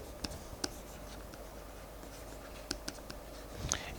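Faint scratching of a pen or marker writing out a physics problem during a lecture on particle orbits. The soft strokes are scattered with a few sharper taps, over a quiet room hum.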